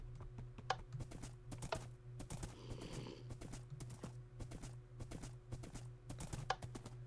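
Horse hooves clopping in Minecraft as a dark brown horse with white legs runs, a steady rapid patter of game footstep sounds over a constant low tone, with occasional louder thuds and a faint whinny.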